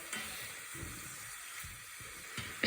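Onions sizzle and crackle steadily in a hot pan while a spoon stirs them round, giving soft scraping pulses under a continuous frying hiss, close and moderately quiet.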